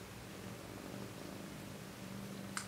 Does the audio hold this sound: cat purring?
yes